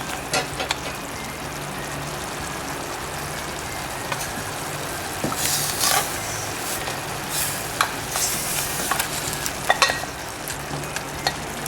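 Bombay duck fish going into a simmering curry, a steady bubbling sizzle with a few stirring scrapes and clinks, faint traffic noise behind.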